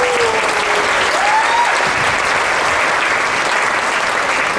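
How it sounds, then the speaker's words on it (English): Loud, sustained applause from an audience at a high school concert band performance, honoring the senior members, dense and even throughout with a faint voice or two beneath. "So big round of applause for our seniors"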